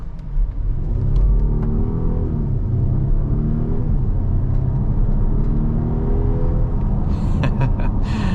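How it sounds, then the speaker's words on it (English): A 2024 Volvo S90 T8 Recharge accelerates hard in a 0 to 60 run, its engine and road noise rising into a loud, sustained roar with a shifting drone heard from inside the cabin. "we'll do a 0 to 60 test"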